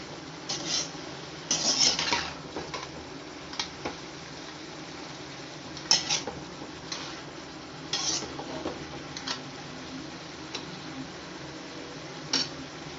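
Capsicum added to cabbage and carrots in a pan for pasta, with a utensil stirring and scraping against the pan in scattered clinks and scrapes over a faint steady sizzle, close and moderately quiet, no talking.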